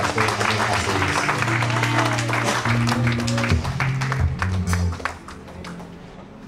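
Congregation in a church service applauding a pastor, dense clapping mixed with sustained music tones and crowd murmur, loud and full, thinning out near the end.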